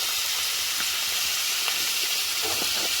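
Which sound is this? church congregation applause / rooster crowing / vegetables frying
vegetables frying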